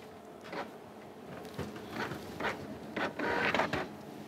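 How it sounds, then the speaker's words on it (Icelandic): A home printer runs through pages, feeding paper with repeated mechanical whirs and clunks that build louder toward the end, close by, with no talking. "núna prenta ég til dæmis framan á jólalag"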